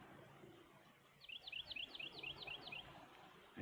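An unseen bird calling in a forest where endangered red-cockaded woodpeckers are being sought: a quick run of about eight high, sharp chirps in a steady rhythm, moderately distant over quiet insect hum.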